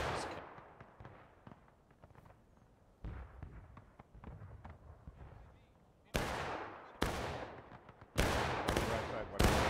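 Musket volleys ring out in the Civil War game War of Rights: scattered sharp shots crack through the first seconds, then four loud, close reports land a second or so apart, each trailing a short echoing decay.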